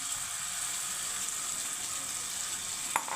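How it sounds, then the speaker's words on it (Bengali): Oil sizzles steadily in a pan with cauliflower and spices, cooked for an egg curry (dimer dalna). A continuous close hiss runs throughout, broken near the end by one brief sharp click. "ফুলকপি ভাজা তেলটাও দিয়ে দিলাম"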